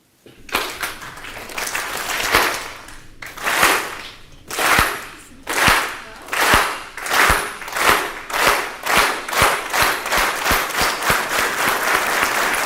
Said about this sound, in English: can we start slowly with one clap?